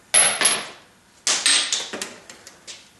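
A worn universal joint with no bearings left in it is knocked out of a vehicle driveshaft yoke. Two sharp metallic hammer blows ring out close up, then a pause and a quicker run of four or five clanking strikes that fade off.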